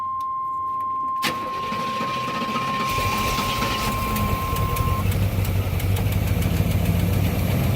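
A 1989 Avanti convertible engine cranks briefly, catches and settles into a loud, rough, uneven idle that continues steadily to the end, with a high whine fading out partway through.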